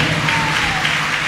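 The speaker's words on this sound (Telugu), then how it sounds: "చప్పట్లు కొడదాం అందరు గట్టిగా" A church congregation at a Sunday service claps loudly together, a dense continuous wash of hands filling the room at an even level, with no single claps standing out.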